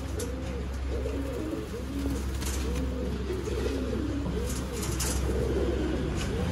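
Sialkoti golden pigeons coo in repeated rolling phrases, several birds overlapping close by with a steady low rumble of background noise and occasional faint clicks.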